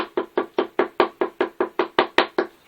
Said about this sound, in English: this is a very noisy activity because you have to bash.